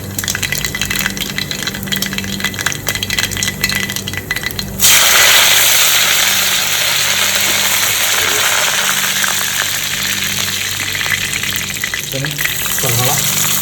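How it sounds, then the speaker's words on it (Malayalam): Mustard seeds hitting hot coconut oil: quiet faint crackle first, then a sudden loud sizzling burst that settles into steady, close frying and spluttering, with a low background hum throughout. "നമ്മൾ അല്പം കടുക് ഇട്ട് കൊടുക്കാം."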